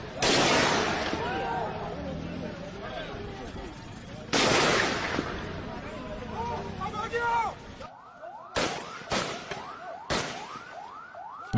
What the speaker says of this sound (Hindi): पाकिस्तान की सेना सीधे गोलियां बरसा रही है